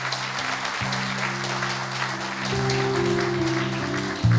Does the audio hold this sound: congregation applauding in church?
yes